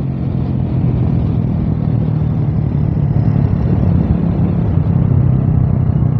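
A Rusi 150 motorcycle engine runs hard and steadily throughout, a loud, close, continuous drone with slight surges as it accelerates during a speed run.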